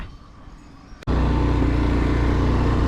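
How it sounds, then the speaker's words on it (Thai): A car driving on a road in Ranong, Thailand, loud steady engine and road rumble filling the cabin after a brief quieter moment at the start. "ตอนนี้เราขับรถไปแล้วนะครับ เราขับรถไป ร้านส้มตำนะครับ"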